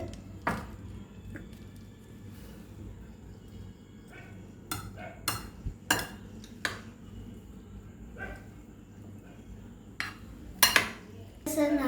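A spoon stirs and mixes sweet butter corn in a pan, giving sparse metallic clinks and scrapes at irregular intervals over a quiet room background.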